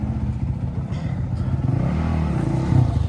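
A four-stroke dirt bike grinds along a rocky Moab trail, its engine revving and surging close by with a steady, fairly loud drone that swells near the end.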